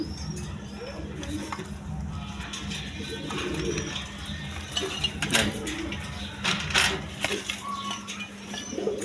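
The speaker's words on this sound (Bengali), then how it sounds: "এখানে একটা সিঙ্গেল নর কবুতর আছে, এই গ্রেডের কবুতর, বিউটি হোমা, জার্মান বিউটি হোমা" A single male German Beauty Homer pigeon, offered for sale, coos in soft, low, repeated bursts. Faint clinks and background voices sit around the cooing.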